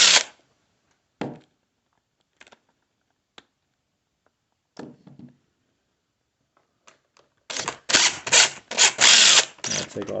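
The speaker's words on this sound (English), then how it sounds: "with a 5/16 nut driver, we're going to take the nuts off." A 5/16 nut driver removes nuts on a Stihl MS250 chainsaw, giving short, close clicks and scrapes separated by silences, then a cluster of louder rapid ratcheting bursts near the end.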